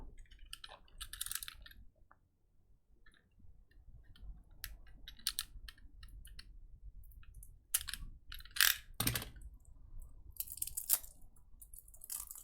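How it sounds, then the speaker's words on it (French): A small cutter slicing open a trading card pack, heard as close, faint scratchy cuts and crinkly foil rustles in short irregular bursts over a quiet room. "Je vais quand même ouvrir un paquet. Je vais prendre un petit cutter."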